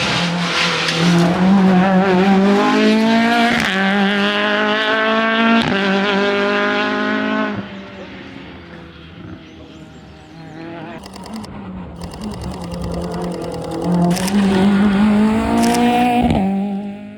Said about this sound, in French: Il va y avoir une N2 qui va passer là. Une R19 N2.